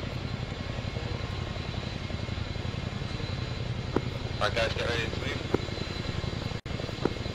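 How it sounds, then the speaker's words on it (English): Helicopter rotor and engine noise in the Arma 3 military game during a landing, a steady loud drone throughout with a person talking over it. "Helicopter touchdown now."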